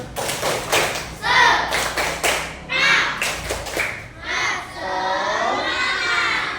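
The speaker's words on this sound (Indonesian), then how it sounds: "mari sama-sama kita tepuk semangat" At the end of an Islamic studies lesson, a class performs the tepuk semangat clapping chant, quick patterned claps and thumps alternating with loud group chanting of children's voices.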